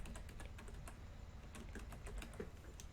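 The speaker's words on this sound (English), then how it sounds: "I was just typing right now" Typing on a computer keyboard during a live chat, with quick, irregular key clicks running steadily throughout at moderate level over a low background hum, and no voices present.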